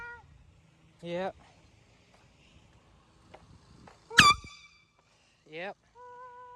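Three air horn blasts sound outdoors away from houses: a short honk, a sharp louder burst in the middle, and a final blast, with brief talk between and a thin tone trailing at the end.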